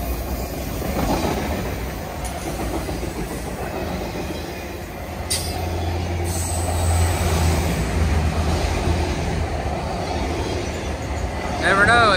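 A train rolling past on the railway near Nashville, a loud continuous rumble with rattling cars, the clatter of wheels on the rails and a brief metallic squeal near the end.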